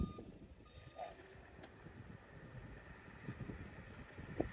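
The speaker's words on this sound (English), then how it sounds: "It is so windy out" Steady wind buffets the microphone outdoors, low rumbling gusts with occasional faint sounds in the background.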